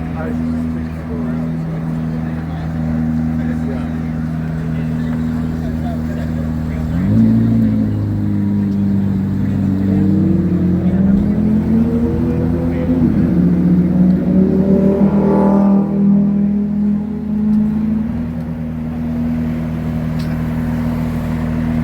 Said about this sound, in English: we gotta get this McLaren leaving now